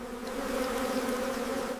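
Steady, dense buzzing of honeybees, a continuous drone close by that holds evenly for about two seconds before cutting off.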